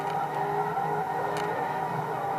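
Engine noise from a car drifting in the racing game Forza 2: a steady, sustained engine drone with faint tire noise, continuous and moderately loud with no voices.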